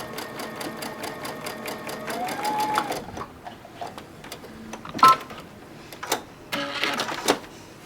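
A sewing machine stitches a seam across a Sun Rays quilt block in rapid rhythmic bursts, pausing and restarting, with faint sounds of handling between runs.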